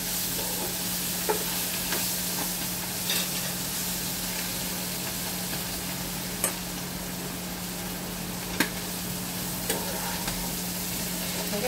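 Potatoes and prawns fry together in a pan, with a steady close sizzle running throughout, a constant low hum beneath it, and a few sharp scrapes or clinks scattered across the frying; nobody talks.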